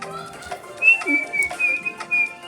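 Someone whistles nearby in a series of short, wavering tones, moderately loud, with a few soft knocks and faint background noise.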